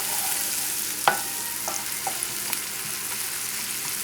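Garlic and shallots sweating in a hot pan, a steady soft sizzle with a few light stirring clicks and scrapes throughout.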